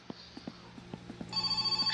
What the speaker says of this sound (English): Been waiting on that phone call.